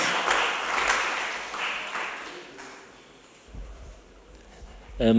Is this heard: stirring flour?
no